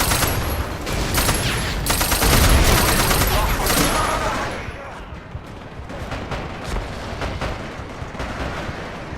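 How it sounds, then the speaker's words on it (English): Sustained heavy machine-gun fire from a captured American weapon in the video game Battlefield, loud and dense rapid bursts for about five seconds, then fading to scattered distant shots and battlefield noise. "we have captured an American heavy machine gun"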